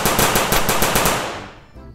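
A toy Captain America gun fires a rapid burst of sharp, loud, evenly spaced shots, about a dozen in quick succession, before trailing off into a fading electronic tail.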